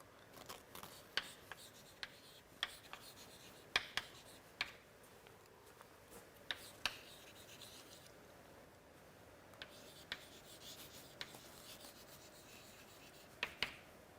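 Someone writes an equation for a physics lecture on light and lenses, giving a faint, continuous scratching and rubbing broken by sharp little taps at irregular intervals.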